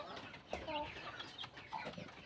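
Backyard free-range chickens clucking softly in a pen during feeding, several short calls scattered over a faint ambient background with no talk.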